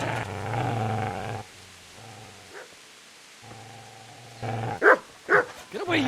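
A dog in the Kingdom Come: Deliverance video game growls low and steadily, then breaks into several loud, sharp barks near the end.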